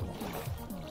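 A boat moving on water in Minecraft, a steady soft rowing and water-lapping wash with faint rhythmic low swells, quiet and continuous.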